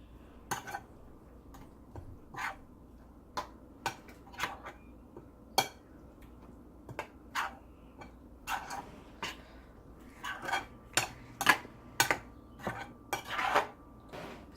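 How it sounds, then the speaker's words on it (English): A spoon clicks and scrapes against a bowl while spices and turmeric powder are mixed together, giving sharp, irregular taps that quicken toward the end, heard close and alone in a quiet room. "Mix it very nicely so that all spices is combined together."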